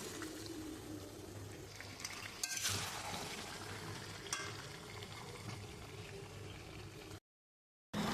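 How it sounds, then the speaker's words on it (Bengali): Mutton being stir-fried in oil for biryani, giving a steady close sizzle and frying hiss with occasional stirring scrapes, then a brief drop to silence near the end. "আমি মাংসটা একদম লাল লাল করে আমি কষিয়ে নেবো"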